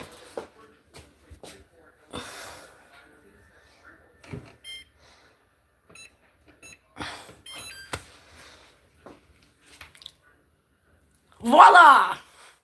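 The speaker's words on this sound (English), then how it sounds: "And now we set our timer." A kitchen timer goes off near the end of a cabbage roll cooking session, with a short loud burst of beeping that follows scattered kitchen clatter and brief bits of talk.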